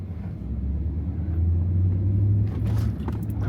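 A RAM TRX pickup truck rolls over a hidden curb in deep snow during a major snowstorm, giving a steady low engine rumble with a heavier swell partway through and faint clatter near the end, no voices.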